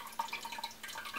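Water trickles and drips inside a handmade ceramic cat drinking fountain, a soft, close, irregular patter of small splashes over a faint steady hum.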